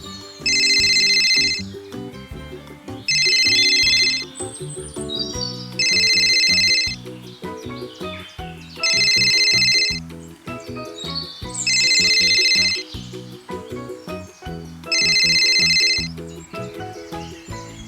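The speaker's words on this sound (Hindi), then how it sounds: "दोस्त को उसने फ़ोन लगाया।" A telephone rings in a repeated pattern of six loud, bright electronic bursts spaced evenly about every three seconds, playing over continuous background music during a phone call in an animated story.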